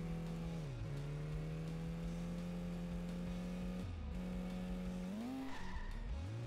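A car in Simpsons Hit & Run revs its engine in a steady drone, then slides in a long e-brake skid with tire squeal as the pitch dips and rises, fairly quiet and without talking.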